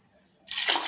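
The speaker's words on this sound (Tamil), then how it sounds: "இது கூட நம்ம 6 டம்ளர் தண்ணி ஊற்றணும்." Water gushes into a pot of soaked rice for vegetable biryani, a brief splashing pour that starts abruptly after a moment of quiet.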